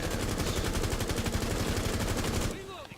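Rapid automatic gunfire in Rainbow Six Siege shooting a hole through a wall, a dense close burst lasting about two and a half seconds before cutting off to quieter game sounds.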